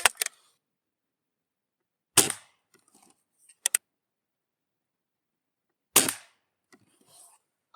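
Crosman air rifle firing while being zeroed: several sharp, isolated cracks spaced a couple of seconds apart, each followed by faint ticks and clicks of handling between shots.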